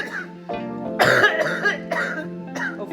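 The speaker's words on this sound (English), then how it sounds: "Sometimes your bronchitis can flare up and you can get a very persistent cough like this." A persistent bronchitis cough, a series of harsh, close coughs in quick bursts with brief pauses between them, sounding chesty and strained.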